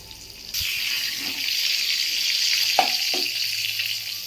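Pointed gourd (potol) frying in hot oil gives a loud, steady sizzle that starts abruptly and continues, with a couple of brief utensil knocks near the end.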